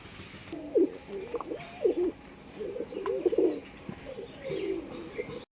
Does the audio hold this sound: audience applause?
no